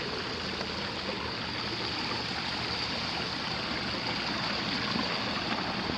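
Water flowing steadily into a swimming pool overflow drain, a continuous rushing trickle heard close and alone at moderate volume.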